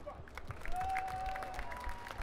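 Light applause from an audience at Gamescom 2012, a patter of claps with a faint tone running through it in the middle.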